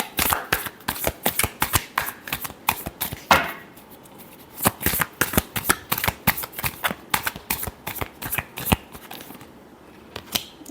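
Tarot cards being shuffled by hand, a close and crisp run of rapid riffling flutters and snaps repeating for about ten seconds with no talk.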